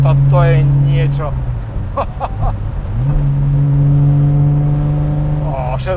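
A car with an inline six-cylinder engine accelerating from inside the cabin, its tone climbing in pitch, dropping back at a gear change, then rising again, loud and close.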